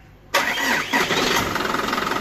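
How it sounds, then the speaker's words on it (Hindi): A Toyota Coaster bus engine cranks and catches abruptly, then settles into a loud, close, steady diesel idle with a regular pulsing beat, with no talk over it. "मैं गाड़ी को स्टार्ट करने लगा हूँ। ये आप इसका इंजन का साउंड भी चेक कर ले किस तरीके का है।"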